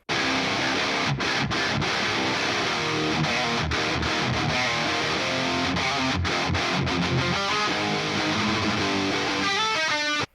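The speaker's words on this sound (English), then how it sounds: "This is how it sounds with isolated guitar." Heavy distorted metal guitar, thick and double-tracked, plays chugging palm-muted riffs with sharp stops, ending on a ringing chord. No vocals or drums.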